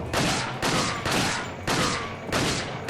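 Four loud, evenly spaced gunshots ring out close by in Resident Evil 4 HD, each a sharp blast with a short decaying tail, and no voice is heard.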